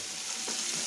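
Pieces of chicken fry in a fryer with a steady, bright hiss of bubbling oil, faint and continuous, with no voices.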